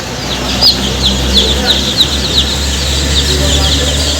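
Fayoumi chickens on a farm give a busy mix of clucks and short chirping calls over a steady background hum, with bursts recurring every half second or so.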